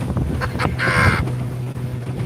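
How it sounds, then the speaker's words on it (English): A fishing boat punching through open-water waves: constant engine and wind rush, with a louder spray-like hiss where the hull slams a wave midway, then the steady drone continues. "We're crashing some waves now, guys, but she's crushing them"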